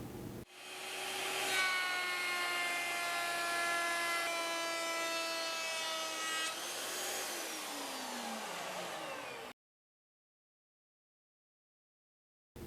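A Skil 10 amp fixed base router spins up and cuts into wood, a loud steady high whine holding for several seconds, then the pitch slides downward as the motor winds down before cutting off, with a brief silence after.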